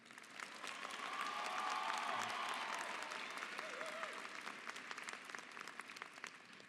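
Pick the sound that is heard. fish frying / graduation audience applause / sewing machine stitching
graduation audience applause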